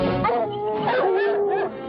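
A dog gives a few yelping, whimpering barks close by, with quick rising and falling cries across a couple of seconds.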